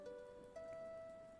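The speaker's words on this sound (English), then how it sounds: "I didn't originally like the rain," Soft steady rain patters on a surface under a sustained tone, a faint continuous wash with no talking.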